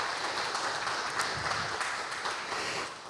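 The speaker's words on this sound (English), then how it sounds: "Let's give them a round of applause" Applause from a town hall audience fills the room, a dense, steady wash of many hands clapping together at close range and continuing at an even level until it starts to thin near the end.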